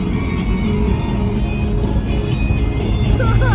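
A warmed-up car's engine runs steadily as it drives off, a continuous low rumble of road and motor noise with no voices.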